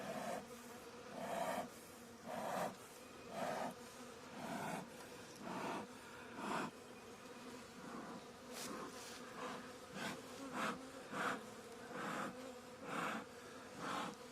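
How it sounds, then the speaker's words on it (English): Honey bees hum in a dense swarm at a swarm trap, a steady close buzzing drone that swells and dips in soft pulses throughout, with no talk. "Alright, big population of bees."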